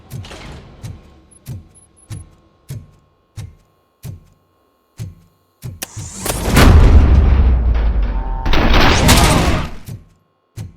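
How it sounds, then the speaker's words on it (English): Gunfire in the video game Robocop Rogue City: a steady series of sharp single shots at regular intervals, followed by a loud sustained burst of heavy rapid fire and booming blasts. "am I hearing gunshots?"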